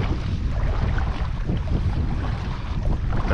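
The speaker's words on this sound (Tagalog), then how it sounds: "Lakas pa rin yung amihan ngayon." Strong northeast monsoon wind at sea roars steadily over open water, buffeting the microphone with a dense, constant rumble and rushing noise, with no voices.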